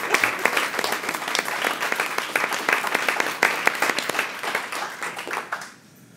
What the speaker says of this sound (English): So let us give you a round of applause.